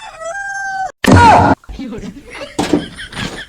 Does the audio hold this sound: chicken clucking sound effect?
yes